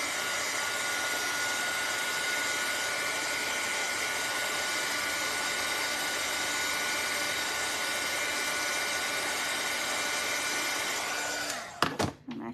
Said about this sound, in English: Okay, I'm gonna hit this with a dryer.